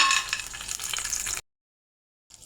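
Cashews, nuts and raisins fry in hot ghee in a wok, a dense steady sizzle close by that cuts off abruptly partway through, then briefly resumes.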